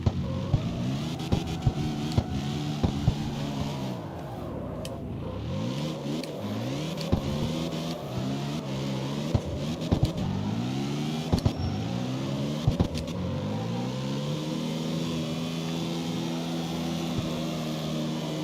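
Game car engine in CarX Street on PC, droning steadily with rising and falling revs and gear-shift dips throughout, loud and continuous with faint clicks layered over it.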